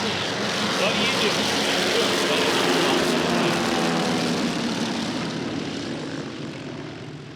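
Douglas DC-3 airplane with radial propeller engines at a STOL competition, giving a loud, steady droning roar that holds close and then slowly fades as it moves away.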